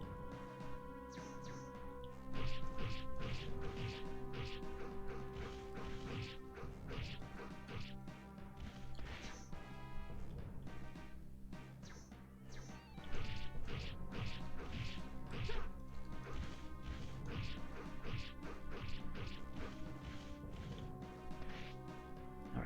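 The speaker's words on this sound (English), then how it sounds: "That's a really satisfying sound. When the hit noise stacks up on itself." Stacked hit sounds in the arcade game Dungeons & Dragons: Shadow over Mystara: dense, rapid crashing and thwacking impacts piling on top of each other over game music, steady throughout.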